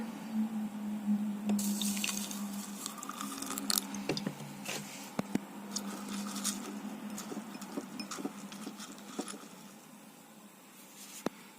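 Water poured into a small cup holding bamboo seeds, heard as faint, close splashing and trickling with a few small drips and squishy bursts over several seconds, with no talking.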